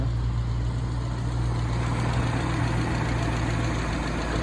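A Renault 16 engine idles steadily after being brought back to running condition, a low, even mechanical rumble with a faint knocking pulse, close and constant with no speech.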